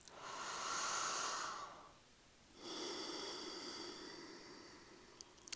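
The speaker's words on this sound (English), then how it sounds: "we'll do one more solid deep breath" A slow deep breath during a morning movement exercise: a long breathy inhale, a short pause, then a long airy exhale, close and quiet with no talking.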